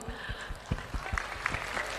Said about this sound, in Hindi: मैं ताली मारती हूँ।